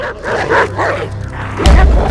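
A dog barks in a film scene, a couple of short yipping barks with a heavier thump near the end.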